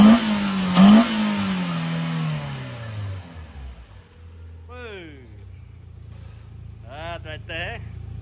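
A car engine fitted with a 1.6 throttle body revs loudly up and then winds down over the first few seconds, followed by a quieter idle as a person talks briefly in the background.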